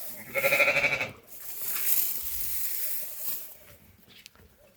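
Rams brought from Kyrgyzstan, resting in the shade at a farm livestock sale, give one loud, close bleat near the start. Quieter shuffling and ambient farm noise follow.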